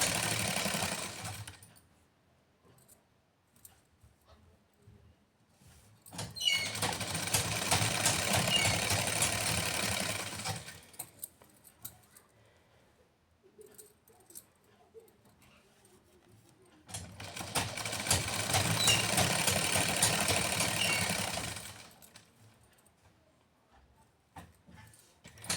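A sewing machine runs in two sustained bursts of several seconds each while stitching round the hem of a salwar in stretchy fabric, with quiet pauses between the runs and no talking.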